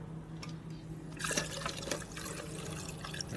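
Fuel runs from the petcock of a 1972 Harley-Davidson Sportster XL Ironhead with a faint, continuous liquid trickle and splashing, brief gurgles and drips, heard close and quiet without talk.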